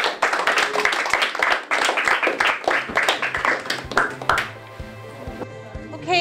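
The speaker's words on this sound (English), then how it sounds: "Give them a round of applause" A school class claps for classmates after a maths lesson, a loud, close burst of quick hand claps from a small group that runs for several seconds, then tapers off into quieter room sound with a few scattered claps.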